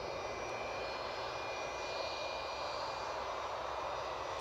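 An EasyJet Airbus A320-200 arriving from Bristol at Edinburgh Airport sends a faint, distant, even jet-engine hiss and rumble that stays steady throughout, with no one speaking.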